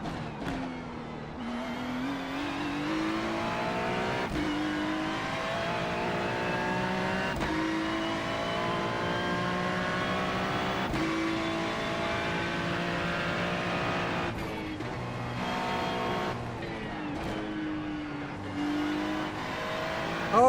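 A race car engine in the iRacing driving simulator roars continuously for about twenty seconds, loud and close, its pitch climbing and dropping sharply with repeated gear shifts and braking, with no voices.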